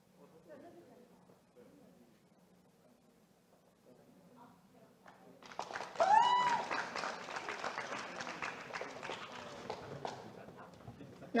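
An audience at the PyCon TW 2023 closing ceremony applauds a prize winner, a dense burst of clapping starting suddenly after a quiet stretch of low talk and continuing steadily at moderate loudness.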